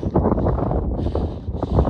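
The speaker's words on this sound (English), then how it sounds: "Sorry, very windy up here." Strong wind at the Chesler Park viewpoint in Canyonlands, Utah, buffets the microphone in loud, gusty roaring bursts, close and continuous for a couple of seconds.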